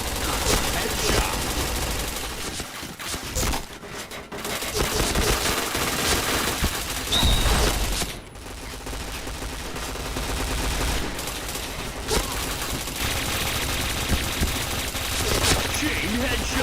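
Rapid gunfire in the online shooter game Point Blank, with bursts of automatic fire and single shots rattling throughout, brief lulls between, and a player talking over the action.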